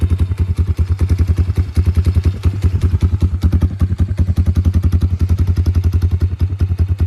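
A GPX Moto FSE140 small motorcycle engine idles close by after an idle adjustment, a loud, fast, even single-cylinder thumping that chugs steadily without pause throughout.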